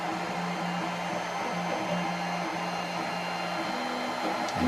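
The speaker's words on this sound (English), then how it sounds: "there's the print going along nicely. Must admit it's very quiet compared to the other printer I've got there" A Tevo Tarantula 3D printer, built from a kit, runs a print with a quiet, steady mechanical whir and shifting stepper-motor tones that hold for a while, then change pitch.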